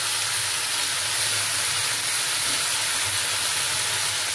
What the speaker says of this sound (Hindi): ये जिंजर गार्लिक पेस्ट हम डालते हैं। Fry for some time.